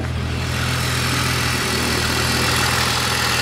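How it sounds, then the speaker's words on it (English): A BMW E46 330ci engine idles up close with a ticking, a loud, steady mechanical drone with a constant low hum and no voices. "So can you hear this ticking like coming right from here?"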